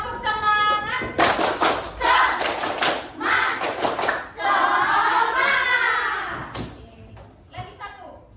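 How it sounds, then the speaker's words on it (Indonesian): Children clap hands in a group rhythmic cheer chant, a classroom tepuk semangat, with sharp bursts of claps and chanted voices in a lively, uneven rhythm close by. "Supaya lebih bersemangat lagi, kita akan melakukan tepuk semangat."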